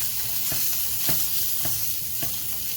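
Sausage is broken up and stirred in a cast iron skillet, with a steady sizzle of frying meat under regular scraping strokes of a utensil, roughly one every half second, close and even.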